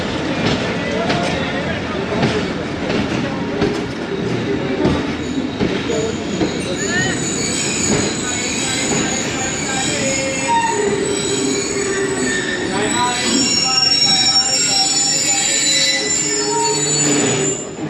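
The Khyber Mail passenger train runs through cold, foggy Punjab, wheels squealing in high sustained whines over a steady rumble and clatter of rail cars, loud and continuous, with voices faintly audible at times.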